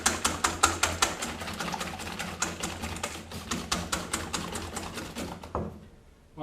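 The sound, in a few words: whisking egg yolks with sugar for flan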